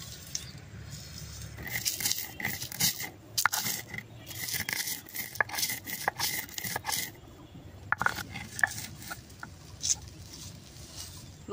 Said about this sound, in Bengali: দেখেন এই যে আদা ফেস করে নিছি